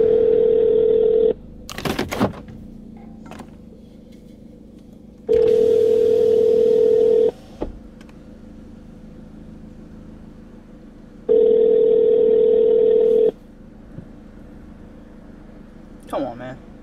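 An unanswered phone call rings out in repeated steady tones, three long buzzing rings separated by pauses, with a voice and clicks between them.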